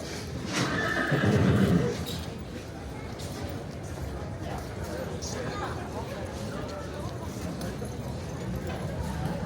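A horse whinnies loudly near the start, then hooves clop steadily on the ground at the South Point casino equestrian center, with faint background chatter and ambient noise.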